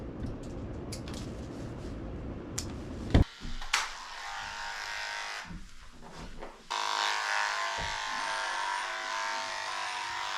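Electric dog clippers fitted with a number 5 blade trimming a Cavachon's coat, a continuous close buzzing hum that breaks off mid-way with a few knocks, then resumes steadily, no speech.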